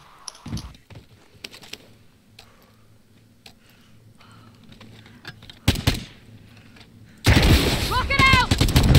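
Warzone battle royale combat with a few sharp distant gunshots and ticking over quiet background, a louder blast partway through, then a heavy sustained roar of launcher and gunfire at the end, with players talking.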